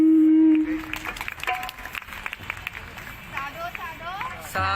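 Applause from a gathered crowd at a Tulsi puja in Jawahar Nagar, Udaipur, Rajasthan: steady clapping and crowd babble fill the space, starting near the end of a sung or spoken line, with speech running through.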